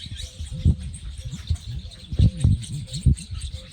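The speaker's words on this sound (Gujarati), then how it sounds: "કિલોલ બોલાવે ને અટાણામાં પંખી આખો હુડાઈ આવ્યા" A flock of birds gathers at a farm in the morning, chirping in quick, close bursts of short calls that repeat irregularly over a faint background hum.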